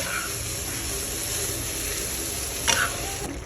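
Half-boiled drumstick (sajne data) stalks are lightly sautéed in a pan, a steady close frying sizzle with a short scrape of the spatula near the end.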